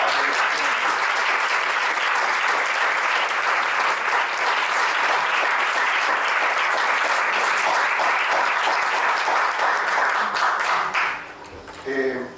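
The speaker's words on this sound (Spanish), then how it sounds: "yo quisiera que le diéramos un aplauso aquí de reconocimiento a Kiara" Sustained, loud applause from an audience at a round-table discussion, with dense clapping for about eleven seconds before tapering off and a voice beginning to speak.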